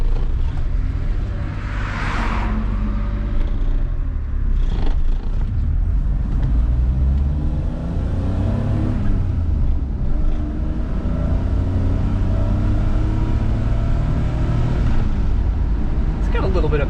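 A 1992 Suzuki Every JDM kei truck engine pulls and revs under steady road rumble and cabin noise, the small motor droning close and loud while people talk over it.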